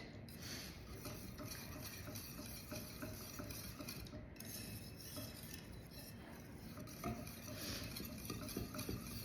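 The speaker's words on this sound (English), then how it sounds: "While it's off the heat, just continue to stir it to blend it" A spoon stirs cubes of butter into a warm mixture in a bowl off the heat, giving soft continuous scraping and occasional light clinks against the bowl, quiet and close.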